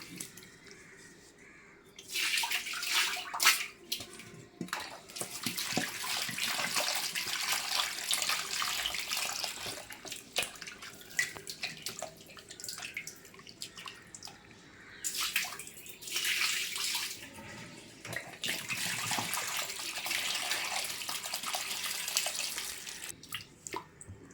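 Tap water runs steadily into a sink while potatoes are scrubbed and washed by hand, a broad hiss with brief pauses and splashing, and crows caw faintly in the background.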